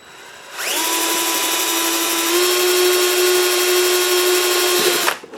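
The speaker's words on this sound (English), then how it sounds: "I'm going to run a pilot hole through, because the plastic has a habit of jumping" A power drill bores a pilot hole through thick plastic dashboard trim, a loud close whine that spins up, holds steady for several seconds, then cuts off, with no voices.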